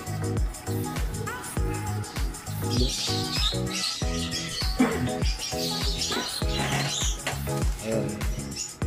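Small birds chirping in a small mini aviary, a busy constant chorus of tweets and calls with soft cooing, close by, with someone talking over them.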